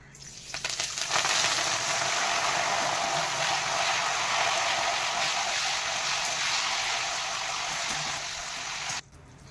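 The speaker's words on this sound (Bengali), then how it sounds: "এবার কারি পাতাগুলো আমি ভেজে নেব।" Curry leaves fry in hot oil for a potato fry dish, giving a loud, steady broadband sizzle and crackle that holds for about eight seconds, then cuts off abruptly.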